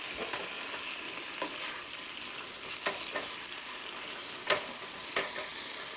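Shrimp sizzles steadily in a hot pan while cooking, with a continuous close fry hiss and a few sharp pops and spatters scattered through.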